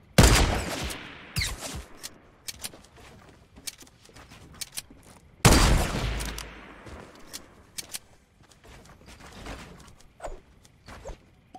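Gunfire in the video game Fortnite, with two big loud bursts followed by scattered sharp shots and quicker volleys at varying distances, with no talking during the fight.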